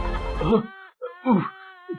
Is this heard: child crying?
yes